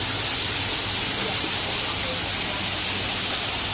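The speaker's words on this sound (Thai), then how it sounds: "ผมข้างๆน้ำตกนี้ ก็จะเย็นสบาย มากๆเลยนะครับ" A waterfall beside marble seating in a natural setting, heard as a steady, loud, broadband rush of falling water filling the whole clip without break.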